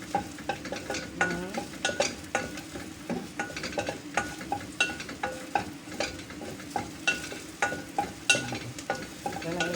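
Garlic sautéed in a pan as the base for chicken soup: a continuous sizzle of frying under repeated rhythmic stirring scrapes, close and fairly loud, with no talk.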